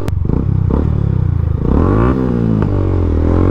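A motorcycle fitted with an aftermarket Exos 5 R6 muffler revs through its exhaust, pitch sweeping up and down in several close, loud bursts with some mechanical clatter.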